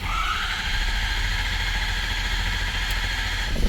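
Diesel engine of a 2012 Ford F250 with the 6.7L engine idles after a fuel filter and water separator replacement, a steady, fairly loud low rumble with constant vibration through the whole stretch.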